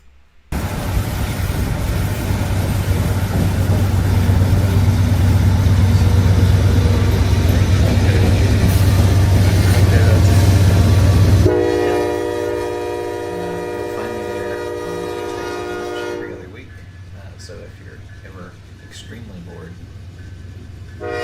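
A train roars past at speed with a loud, sustained rumble, then a long multi-tone horn blares before the sound drops to a distant hum.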